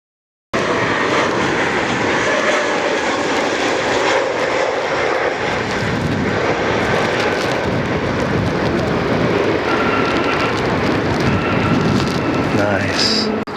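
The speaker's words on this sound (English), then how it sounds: "This is Spirit 1329 inbound from Tegucigalpa." A Spirit Airlines jet airliner inbound to land at Fort Lauderdale roars steadily and loudly overhead, a broad continuous engine rumble and whine with no break, close to the listener.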